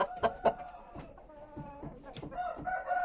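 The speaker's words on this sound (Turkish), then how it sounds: "Horoz yavru." Young roosters in a coop give short, soft clucks and chirps in an irregular scatter, close by and fairly quiet.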